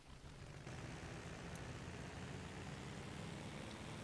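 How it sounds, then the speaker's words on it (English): A car engine hums as the car is driven in the horror video game Shadow Mansion. It is a faint, steady, low rumble that continues without a break and with no talk. "Oh, so we're actually driving the car."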